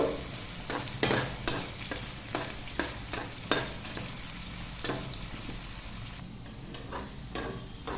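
Finely chopped onions with mint are stirred and fried in a pan for chicken curry, a steady sizzle broken by repeated scraping strokes of a spoon, close and fairly loud, with no one talking.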